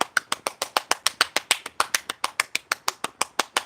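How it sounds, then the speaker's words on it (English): A single person claps their hands about twenty times in a quick, steady rhythm, each clap sharp and close with no other sound between. "Let me clap for you."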